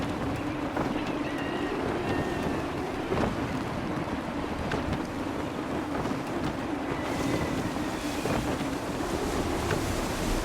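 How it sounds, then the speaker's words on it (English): Gusty wind and rolling sea waves wash around a sailing ship in the Assassin's Creed III video game, a steady, full roar of wind buffeting and surf churning throughout with no talking. "Gusty winds can be difficult to manage"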